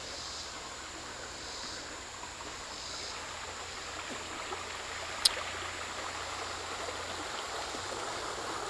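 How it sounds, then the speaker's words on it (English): Small creek flowing along a wooded trail bank in a state park, a steady soft rushing of water throughout with one brief click. "Nice little creek."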